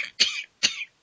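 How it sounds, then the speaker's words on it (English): Two quick, sharp coughs from one person close by, evenly spaced about half a second apart, with silence between them and nobody talking. "Cough still killing you, dude."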